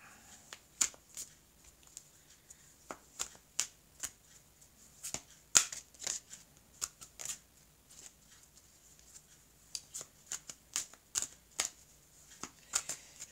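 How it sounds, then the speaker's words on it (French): An oracle card deck is shuffled and cut by hand, giving a long run of crisp, close card riffles and taps in irregular bursts, with no voice. "Alors je vais couper le jeu"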